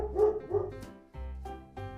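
A dog barking near its kennel, five loud, close barks at an uneven pace with brief gaps between them, and no talking.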